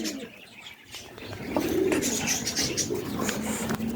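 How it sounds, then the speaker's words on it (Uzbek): Soft, low cooing of pigeons nearby, several overlapping calls with faint rustling and distant chirps in the background. "bizim mana kaptarlarimiz"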